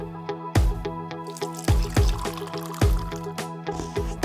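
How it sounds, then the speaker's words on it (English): Siphon coffee maker over a flame, heating water that rises to mix with ground coffee: a stack of sharp ticks, taps and drips recurring unevenly against a steady ringing hum, close by with no voices. "Looks like this flame is boiling the water."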